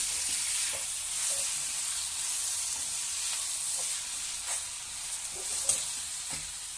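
Tomato frying with onion in a pan for chicken liver rice, a continuous bright sizzle close up with a few soft stirring scrapes and taps.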